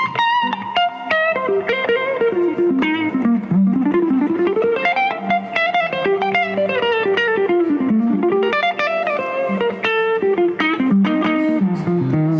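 An overdriven electric guitar, a D'Angelico Atlantic, plays a fast, gritty lead with sliding runs up and down the neck, loud and close with no talking.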